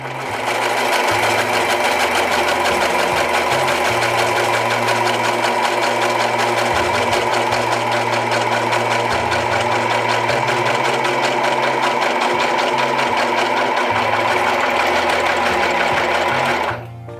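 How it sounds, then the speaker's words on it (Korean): A Brother 2104D overlock machine sews stretchy jersey knit fabric, giving a loud, close, continuous fast mechanical whir with a dense rattle that holds steady throughout before stopping abruptly at the end, with no voices. "신축성이 좋은 다이마르 원단도 평균값으로 재봉해 주었어요."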